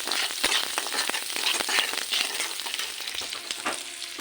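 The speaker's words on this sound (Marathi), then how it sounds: "कांदा भाजते मी, ठीक आहे. कांदा भाजते टाकून." Onion frying in a pan, a steady dense sizzle with frequent scraping stir strokes throughout, close and fairly loud, no talking.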